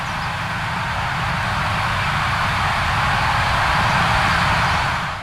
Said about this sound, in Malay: Ini pula bunyi ratusan death whistle yang ditiup serentak menuju ke arah anda.